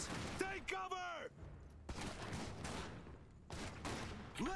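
Rapid bursts of gunfire in the video game Iron Harvest, with sharp volleys and sustained shooting through most of the stretch, loud and busy under intermittent in-game voices and effects.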